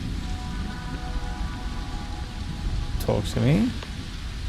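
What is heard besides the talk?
rain falling on a planet in a video game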